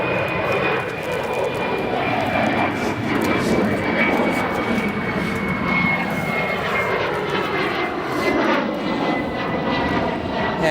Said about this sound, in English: And now rolling down 28 right, we have United Airlines Flight 909, a 787-8 headed to Amsterdam.